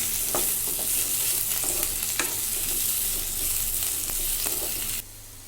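Tomato masala with curry leaves fries loudly and continuously in a pan for a village-style chicken curry, with a dense close sizzle and light stirring taps that suddenly drop off near the end.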